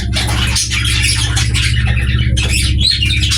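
Yellow-face grey cockatiel calling up close, loud repeated squawks and chirps over a steady low hum in the background.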